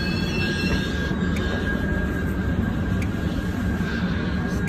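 Train noise at a London Overground and National Rail station, a steady loud low rumble of a train running or idling close by, with a faint high squeal and a few sharp clicks over it.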